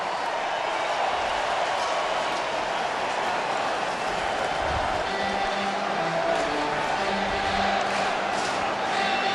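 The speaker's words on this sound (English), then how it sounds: "Let's give our national champions another round of applause." A large football stadium crowd roars and applauds for national champions, a dense continuous wash of cheering and clapping with no clear speech over it.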